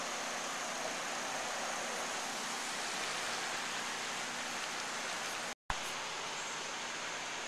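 Steady, dense rush of a flooded creek running over its banks onto lawns after Hurricane Irene, a continuous close roar of fast water with one brief dropout near the end.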